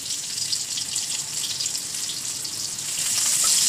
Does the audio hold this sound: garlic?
yes